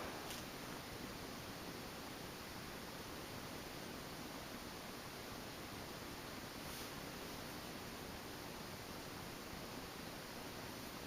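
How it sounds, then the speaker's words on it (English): A 1989 Nadair 107 cm ceiling fan running on medium speed gives a faint, steady broadband hum and airy rush, unchanging throughout with no other sounds. "The hum is the most heard on that speed there, on medium speed."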